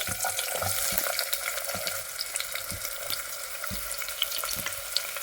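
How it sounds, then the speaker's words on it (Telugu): Chopped onions fry in hot oil for a mutton curry, giving a steady close sizzle with occasional soft clinks and stirring scrapes mixed in. "ఉల్లిపాయలు వేసుకుని కాస్తంత దోరగా ఫ్రై అయ్యేంత వరకు ఫ్రై చేసుకోవాలి."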